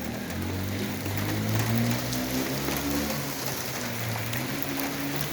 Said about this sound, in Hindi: it's too heavy rain. Heavy rain.